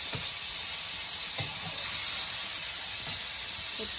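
Onions and garlic sizzling in a pan in an outdoor garden kitchen in the Philippines, a steady soft frying hiss with occasional light stirring clinks, no voices.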